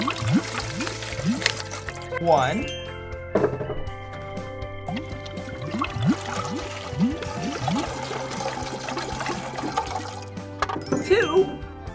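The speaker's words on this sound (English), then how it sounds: "today we're gonna fill it up with water" Water pours and splashes into a tank being filled for a children's sink-or-float test, a continuous gushing and trickling with a voice counting aloud over it.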